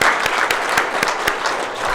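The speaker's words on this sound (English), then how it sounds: "A round of applause" Dense applause from an audience at a Rotary lunch in Melbourne, steady and close throughout the short burst, with a few sharper individual claps standing out.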